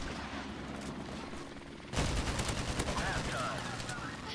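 Rapid AK rifle gunfire in a first-person shooter video game, bursts starting midway and continuing loudly to the end over game ambience, with faint talk in the background.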